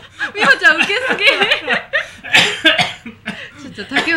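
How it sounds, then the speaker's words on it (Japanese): Someone coughs in fits amid giggling and laughter, close and loud, with voices chattering around during a lively, casual gathering. "咳込んで真っ赤になってる。"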